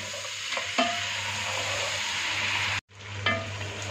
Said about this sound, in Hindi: 3-4 मिनट के लिए मज़ीद इसको फ्राई कर लेंगे।